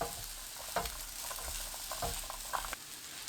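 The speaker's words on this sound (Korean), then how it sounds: "3분 후 다진 마늘 반큰술, 고운 소금 반큰술 넣고 중불로 2분 볶습니다" Sliced potatoes with minced garlic and fine salt sizzle as they are stir-fried in a pan over medium heat, a steady faint crackle broken by soft scraping and tossing of the spatula, with no voices.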